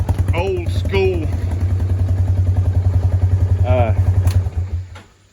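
A Polaris Ranger exhaust running without its spark arrestor gives a deep, rapid, even throbbing pop at idle, loud and close, while someone talks over it until it cuts off.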